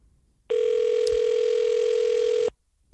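A telephone ring tone during a podcast call, one loud steady electronic tone lasting about two seconds, alone and close.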